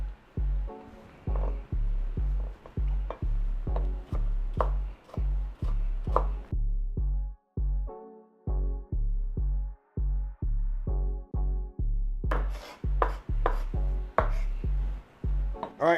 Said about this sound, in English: Cut your onion in half, then cut it in slices, then either fine or rough chop.